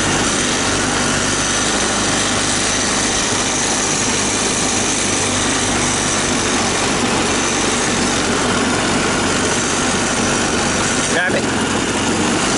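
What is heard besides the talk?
barn find ATV engine idling with high throttle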